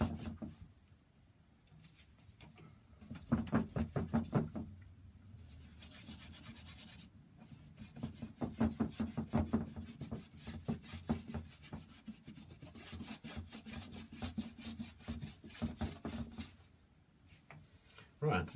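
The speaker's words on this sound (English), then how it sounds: "And it can scrape, you can take this colour right back" A palette knife scrapes oil paint back off a painted surface in bursts of rough, rasping strokes, close and quiet, with pauses and someone talking between them.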